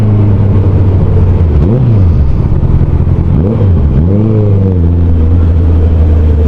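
A Honda CBR650R motorcycle fitted with an Akrapovic full exhaust system, its engine idling loudly close up and then blipped through two quick rising-and-falling revs, the second a double rev, with no talk over it.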